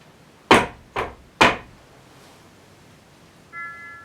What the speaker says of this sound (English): If I knock, like this,